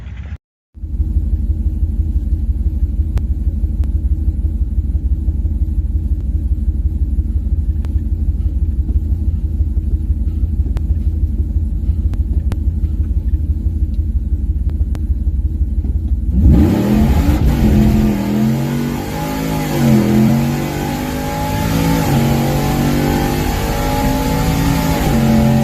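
A four-door Ram truck sits on a quarter-mile drag strip with a steady, loud engine rumble, then launches hard, its revs rising sharply and roaring on with no voices over it.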